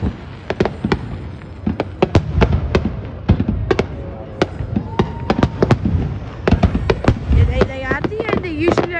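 New Year's fireworks over New Orleans, with a rapid irregular run of sharp bangs and crackles at mid distance, while people talk and exclaim over them.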